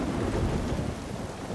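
Heavy rain pouring down in a deluge on a mountain cliff face, a dense, steady roar of downpour with deep rumbling, loud and unbroken throughout.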